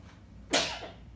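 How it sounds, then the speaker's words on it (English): A single sharp sneeze bursts out close by, quick and forceful, then trails off into quiet. "Pepper makes me sneeze."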